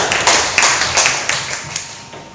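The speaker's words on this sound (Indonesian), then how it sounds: "berikan tepuk tangan untuk pasangan calon nomor 1 dan nomor 2" Applause from a debate audience cheering the two candidate pairs, a short burst of scattered claps with a few sharper peaks that thin out and fade across the stretch.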